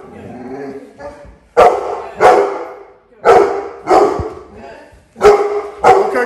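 A residential protection K9 guard dog gives a warning bark, sharp loud barks in pairs with short pauses between them, preceded by low growling and whining, close to the listener.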